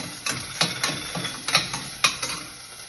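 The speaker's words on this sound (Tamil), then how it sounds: "அதுக்கப்புறம் கலர்டு கேப்சிகம், அதுக்கப்புறம் பட்டாணி, இது கொஞ்சம் வதக்கிக்கிறேன்." Coloured capsicum and green peas being stirred and sautéed in a pan for a vegetable kheema, with scattered scraping and clattering stir strokes over a faint sizzle, close and moderately loud, no talking.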